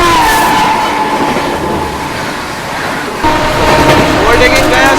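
A passenger train runs alongside and overtakes a special train bound for Darbhanga, a steady loud rumble of wheels and rail noise that swells near the end as the trains pass close, with people talking over it.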